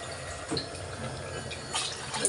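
Water is poured into a pressure cooker while making khichdi, giving a steady splashing and trickling flow with brief surges and no talk.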